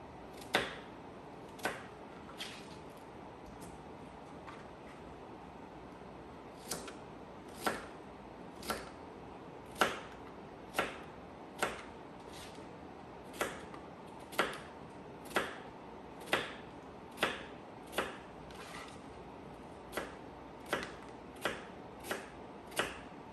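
Knife slicing pears lengthways on a cutting board, a steady series of crisp, sharp chops about one per second, close and distinct against a quiet background with no talking.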